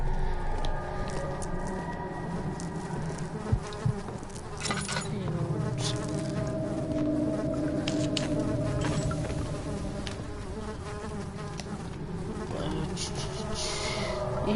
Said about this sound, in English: I hear that buzzing